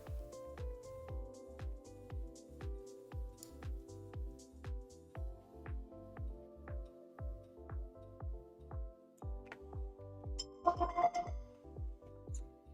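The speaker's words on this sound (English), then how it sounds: "I really need to take that alarm off my phone." A phone alarm plays a repeating rhythmic electronic tone pattern, steady and moderately quiet across the whole span, with a brief clatter near the end.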